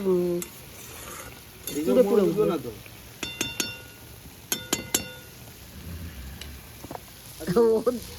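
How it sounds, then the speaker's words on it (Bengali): A spatula scrapes and clinks against a pan as food is stirred in a village kitchen, coming in short bursts of metallic taps over a soft sizzle, with a voice talking between them. "আমি খুন্তি নাড়ছি"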